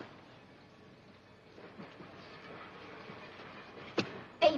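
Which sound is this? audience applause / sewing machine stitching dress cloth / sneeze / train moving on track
train moving on track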